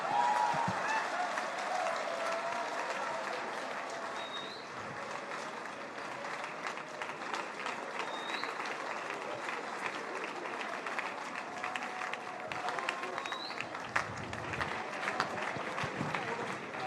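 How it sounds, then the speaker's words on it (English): A live audience at a televised talk programme applauds steadily throughout, a dense wash of clapping with crowd murmur and a voice or two underneath, holding an even level without pause. "A round of applause, please."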